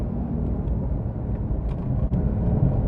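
A Porsche Carrera S engine held above 4,500 rpm while driving, a steady loud rumbling drone with no talk over it.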